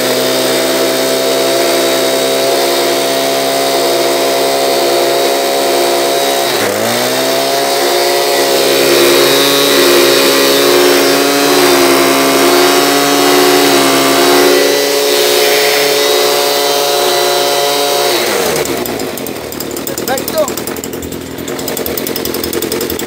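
A small two-stroke engine runs after a carburetor test, holding a loud, steady buzzing drone at close range with a brief dip and recovery partway through, then idling down near the end.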